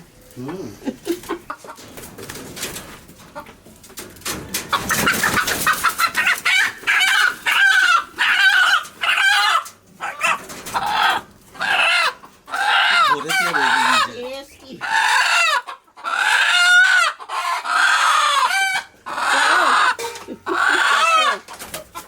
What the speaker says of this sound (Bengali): দেশি মোরগ তো মানে পারা যায় না এর সাথে। দেখুন কি সুন্দর মোরগ দুটোই।